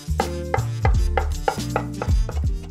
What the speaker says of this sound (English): And we'll give this a chop too.